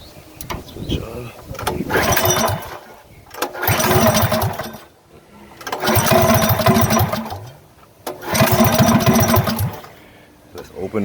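An old go-kart engine that has sat unused for years, sputtering and running in uneven bursts that surge and drop several times, close by, with a voice talking between the bursts.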